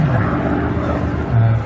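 Hawker Sea Fury propeller fighter fitted with smoke generators passing at an airshow, a loud steady droning engine roar with a slight rise near the end.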